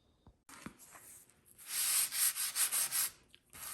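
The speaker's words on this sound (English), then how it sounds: "So I'm going to go back and just kind of sand just a little bit, yeah, on all these edges." Sandpaper scuffing the edges of painted wooden furniture, a quiet start followed by several loud rhythmic rasping strokes close up, with no voices.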